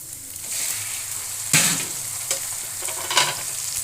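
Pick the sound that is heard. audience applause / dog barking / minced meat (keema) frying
minced meat (keema) frying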